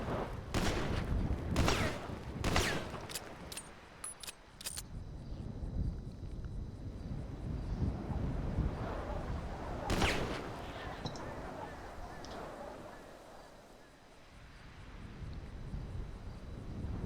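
Gunfire in the Carolina State RP video game, several sharp shots in quick succession at the start, then a lone shot later over constant wind-like background noise.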